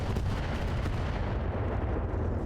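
Heavy mech weaponry blasting in the BattleTech RogueTech mod, a loud, booming, continuous roar of cannon-like fire with no talk over it.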